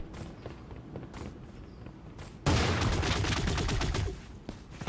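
Bursts of automatic gunfire in the battle royale game Creative Destruction, a sudden loud rapid volley lasting over a second after quieter footsteps and scattered shots.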